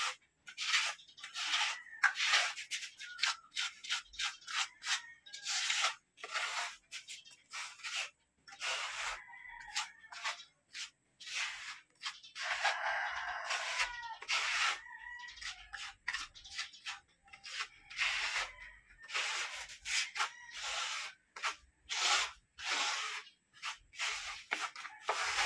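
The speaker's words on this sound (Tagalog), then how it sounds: "kakalat lang natin yung ating stuko sa ating surface" Stucco being spread and worked over a surface for a sand finish, repeated scraping and rubbing strokes in uneven bursts with short pauses, close by and without talk.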